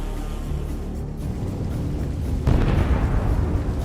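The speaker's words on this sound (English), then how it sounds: "The explosion was incredibly powerful." A drone-struck infantry fighting vehicle's suspended fuel tank explodes in a combat zone, a deep rumbling roar that swells into a heavier burst near the end, broad and noisy, with no voices.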